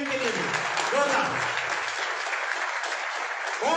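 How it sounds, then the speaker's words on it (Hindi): Loud, sustained crowd applause for business leaders at a company event in Jharkhand, continuous dense clapping with a voice cutting in over it at moments. "जोरदार तालियां इनके लिए भी"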